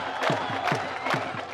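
A crowd at a Pakistan border ceremony cheers and roars in a loud, dense wash, with rhythmic swelling shouts repeating about every quarter second and no separate talking.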